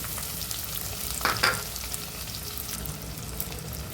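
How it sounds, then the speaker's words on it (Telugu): Onions and dried red chillies fry in a pan for gongura chicken, giving a steady close sizzle with a couple of brief scraping stirs near the middle. "ఎండుమిర్చి, ఉల్లిపాయలు బాగా ఫ్రై అవ్వాలి. బాగా కలర్ వచ్చేంత వరకు ఫ్రై చేసుకోవాలి."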